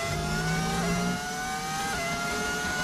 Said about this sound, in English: How do you get the sound on the car? It's just an audio mod.